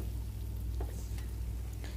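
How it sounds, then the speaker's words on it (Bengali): Chickpeas frying with chopped onion, green chilli and fresh garlic in a wok give a steady, close sizzle with faint stirring scrapes, no voices. "বুট ভাজার জন্য আর কি এগুলি।"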